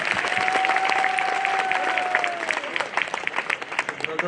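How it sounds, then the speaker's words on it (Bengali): Loud crowd applause at an evening religious discussion gathering, dense clapping through most of the span with a sustained whistle-like tone early on, thinning into scattered claps toward the end. "জোরে হাততালি বাজাতে হবে না?"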